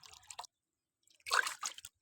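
Water is poured into bowls for dogs in short, faint splashing and dripping bursts separated by near silence.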